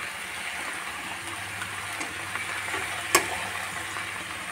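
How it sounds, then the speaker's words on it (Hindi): Chopped onion and green chili fry in a pan on the stove, making a soft, steady sizzle with one sharp tick of a spoon against the pan near the end. "प्याज और हरी मिर्च में और अच्छी तरह से फ्राई करूँगी"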